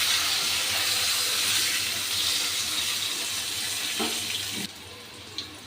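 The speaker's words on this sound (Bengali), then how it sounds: "আলুর সাথে বেগুনগুলো আমি একটু হালকা ভেজে নেব।" Cut brinjal and potatoes frying in a pan, giving a loud, even hiss of oil that cuts off abruptly near the end, followed by a couple of faint clinks.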